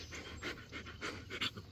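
A puppy pants steadily in rhythmic, close breaths after a walk by a garden pond, resting in the shade outdoors.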